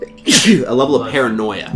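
A single sharp human sneeze bursts out at close range, followed at once by people talking.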